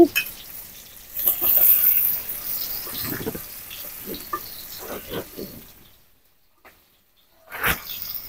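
Chopped onion hitting hot oil with prawns in a pan on a village clay stove, giving a bright hissing sizzle with soft stirring clatter that fades into near silence before a brief burst returns.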